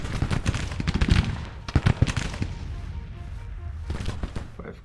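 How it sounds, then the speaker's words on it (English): Massed musket volleys crackle in a Civil War strategy video game, with repeated sharp bursts clustered early and again later in the stretch, layered over a low rumbling battlefield bed, moderately loud and continuous. "they're firing at both, so these guys should open up soon too"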